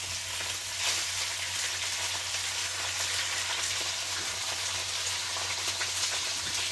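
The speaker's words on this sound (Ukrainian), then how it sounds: "Зараз буде шкварчать." Wild boar meat sizzles loudly and steadily in a hot frying pan, a constant crackling hiss with no talking.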